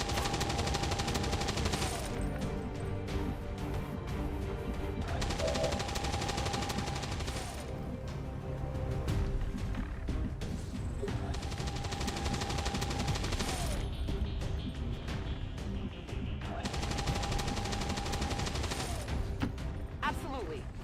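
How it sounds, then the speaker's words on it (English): Suppressing machine gun fire in the video game XCOM 2 comes in long sustained bursts of rapid automatic shots, loud and dense, separated by short lulls with battlefield rumble. A voice briefly speaks between bursts. "Suppressing fire on target."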